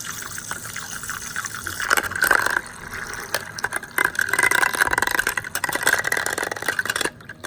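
A mini washing machine rinsing makeup brushes in a little water, a steady motor whir with sloshing, gushing water that swells and fades in several surges at close range.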